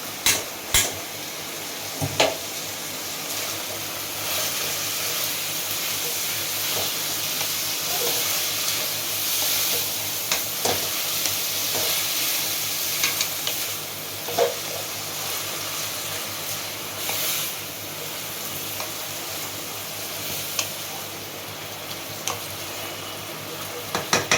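Soaked banana flower, salted, cooks in a pan for a vegetarian Bengali mochar ghonto, giving a steady close hiss and sizzle with sharp scraping clicks from stirring now and then, and no voices.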